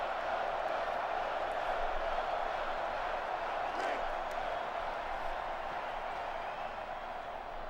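A stadium crowd in the NCAA Football 06 video game gives off a steady, dense roar that holds even and loud throughout, with a commentator's voice talking over it.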